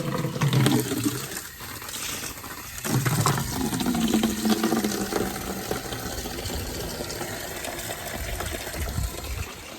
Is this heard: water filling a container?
yes